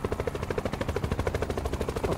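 Helicopter in a Call of Duty Blackout match, a steady pulsing rotor throb with rhythmic beats running continuously and fairly loud, with gunfire-like bursts mixed in.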